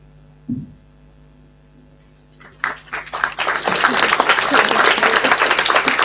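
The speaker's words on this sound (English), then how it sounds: "I'm glad your applause is picked up." After a quiet stretch over a faint electrical hum, an audience at a session breaks into applause that swells quickly and continues as a full, steady clapping to the end.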